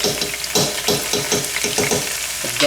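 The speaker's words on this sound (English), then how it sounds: "we're going to throw in some garlic" Garlic sizzles loudly as it fries in a pan, with rhythmic stirring scrapes repeating about twice a second.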